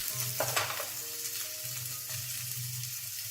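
Prawns pan-frying until browned on both sides give off a steady, close sizzle that crackles continuously, with a faint melodic tone underneath.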